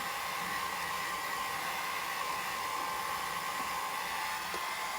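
A hair dryer blows on freshly dyed hair, a loud, continuous steady whoosh with a constant motor whine that runs unbroken throughout, with no talk.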